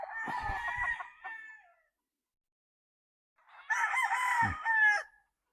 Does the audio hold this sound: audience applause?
no